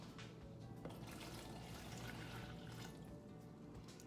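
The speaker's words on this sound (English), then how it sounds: "I'm just gonna bring this over to the sink so I can pour the water in and make sure it doesn't spill." Water poured from a glass into a container at a kitchen sink, a soft steady trickle and splash running throughout at low level, with no talking.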